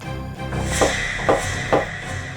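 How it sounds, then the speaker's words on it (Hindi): Three evenly spaced knocks land on a door in a TV crime drama scene, fairly close and distinct against a quiet room, with no one speaking. "चलिए अभी दरवाजा खटखटा लेते हैं।"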